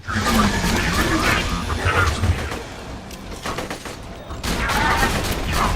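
Rapid gunfire from a weapon in the shooter video game Borderlands 2, coming as loud, dense bursts that dip briefly near the middle before resuming at full strength.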